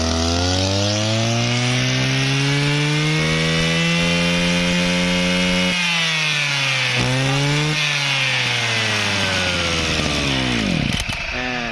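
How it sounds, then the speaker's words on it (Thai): A used Mitsubishi TL261 brush cutter's small two-stroke engine runs loud and close, its pitch rising and falling as it revs up and down repeatedly, with a sharp rev near the end. "เดี๋ยวลองฟังเสียงและรอบดู ว่าเจ้ามิสูบิชิในรอบมันจับน่าดูเลยนะครับ"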